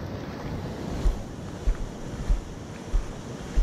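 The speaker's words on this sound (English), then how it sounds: "It's staying the ground, it's blowing by the wind. Got a little gust out here." Gusty wind blows by the water outdoors, a steady roar of wind noise across the microphone broken by several dull low thumps from stronger gusts, with no speech.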